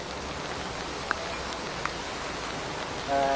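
Heavy, continuous rain falls steadily in Tirunelveli district, a dense even hiss with a couple of faint drip ticks and a slight swell at the end.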